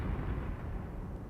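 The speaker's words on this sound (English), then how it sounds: "These are explosions," Explosion sound effect with a radio-style filter: a dense, low rumbling blast that holds steady for just over a second at moderate loudness, alone with no voices.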